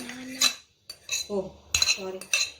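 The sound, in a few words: banana being smashed with cutlery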